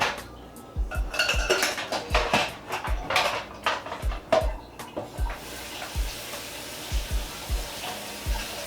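Metal utensils clatter and clink as someone rummages through them for a spoon in a kitchen, a string of sharp uneven knocks and rattles over a faint sizzling hiss from cooking.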